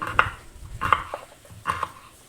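Knife chopping snake gourd into small pieces on a board, three clusters of crisp close-up cuts with quiet gaps between.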